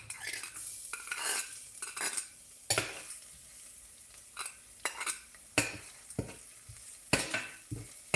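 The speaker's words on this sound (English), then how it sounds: "Just put a tiny bit of olive oil, and then I'm going to saute my garlic" Garlic sautéing in a little olive oil in a pan, a low sizzle broken by repeated sharp scrapes and clinks of a utensil stirring at an uneven rhythm.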